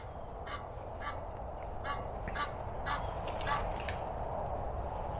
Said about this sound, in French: encore un oiseau